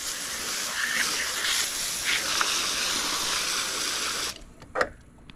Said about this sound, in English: We're going to rinse this fish off.